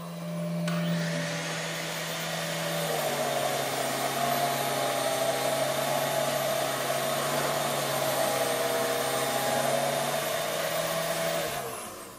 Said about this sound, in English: And now we'll switch the vacuum on.